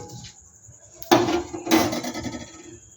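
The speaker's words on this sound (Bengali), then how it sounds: "দেখো মশলাটা কিন্তু আমি একটু বেটে নিই" Spice paste for a sour-spicy pickle being ground by hand, a sudden hard knock followed by rough scraping and grinding strokes, close and unaccompanied by speech.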